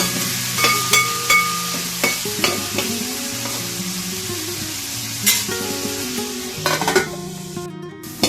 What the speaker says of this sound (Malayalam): ഇത് നന്നായി ഇളക്കി ഒന്ന് അടച്ചു വെച്ച് വേവിക്കാം.